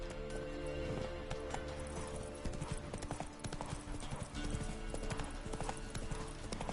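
Roach the horse's hooves clip-clop steadily in The Witcher 3, a dense rhythmic trot close up over game music, with a brief whinny and some talk mixed in.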